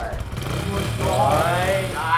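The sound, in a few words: person imitating a motorcycle sound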